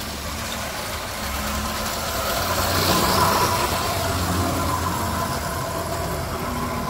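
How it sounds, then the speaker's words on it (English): A Unique Art #2000 Rock Island tin toy locomotive runs along its track with a steady mechanical whir and rattle that swells slightly, then holds at an even level. "let's see this guy run. It's a fairly smooth locomotive."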